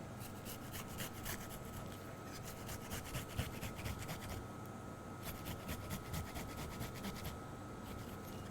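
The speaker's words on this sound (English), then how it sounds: "We're going to just mince our ginger a little bit." A knife minces ginger on a cutting board in a rapid, steady stream of close chopping taps that runs throughout.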